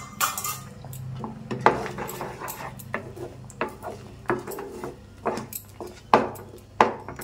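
A spoon scrapes and clinks against a metal pan as roasted cashews are stirred into kesari, a sweet semolina dish. The knocks and scrapes are close and come in an irregular rhythm with no voices.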